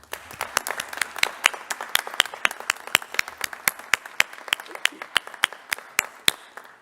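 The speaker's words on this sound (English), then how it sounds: "Please join me in a round of applause to thank her and all members of the Kemp family for their generous support of the university." Scattered applause at a university convocation, a few sparse, distinct hand claps in an uneven rhythm, close and fairly light, running throughout.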